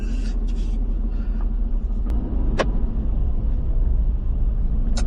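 An Aston Martin Vantage F1 Edition driving at Châtelaillon, heard as a steady, low engine and road rumble from inside the car that holds even throughout, with a few faint clicks and knocks over it.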